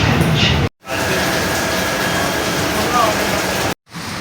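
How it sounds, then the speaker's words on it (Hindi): Steady heavy rain hisses continuously in Islamabad, a dense, even patter interrupted by two brief moments of silence. "बारिश रुक चुकी है, रुकी नहीं है स्लो हो चुकी है।"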